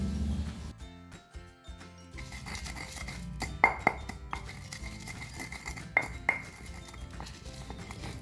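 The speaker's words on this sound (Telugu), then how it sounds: "ఇలా ఇవన్నీ వేసుకొని మనము మంచిగా దంచుకోవాలి." Garlic and chili are pounded together in a mortar for a spicy garlic condiment, giving a series of close clinking and knocking strikes with a few sharper metallic pings over a soft, steady background.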